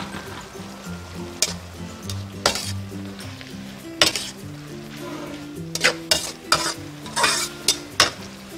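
Sour bamboo shoots and minced pork with holy basil are stir-fried in a pan, a soft sizzle running underneath as a spatula scrapes and clinks against the metal in irregular bursts, growing busier toward the end.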